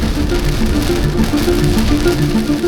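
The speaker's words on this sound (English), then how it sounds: "next minute it's absolutely bucketing down with rain" Heavy tropical rain pours down during the rainy season in Darwin, Australia, a loud, continuous roaring wash of drops hammering surfaces with no break and no voices.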